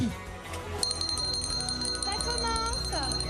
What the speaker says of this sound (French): lorsque je sonne la cloche, eh bien on va commencer